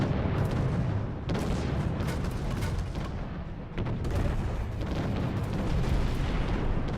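Heavy ship cannon shots in Treasure Planet: Battle at Procyon boom continuously in a dense, roaring barrage, loud and near, with brief dips between volleys and no talk over them.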